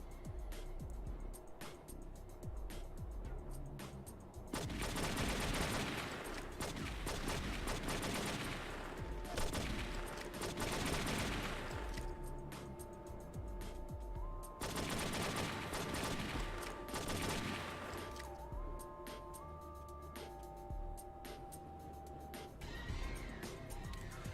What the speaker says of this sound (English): you can start firing through the floor